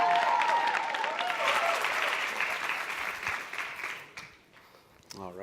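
Crowd applause at a World Bank youth summit, full and sustained at first, then tapering off before a brief burst of sound and a voice near the end.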